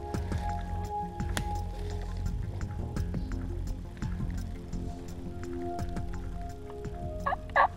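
A wild turkey gobbles in response to hunters' calls, a single short, loud gobble near the end after a long stretch of soft outdoor patter and rustling.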